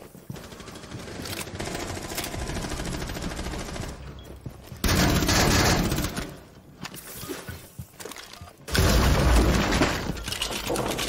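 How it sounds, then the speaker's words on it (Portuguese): Rapid bursts of gunfire in Rainbow Six Siege, dense and loud, with sustained automatic fire in several heavy volleys separated by brief quieter gaps. "Deu uns tiros nele."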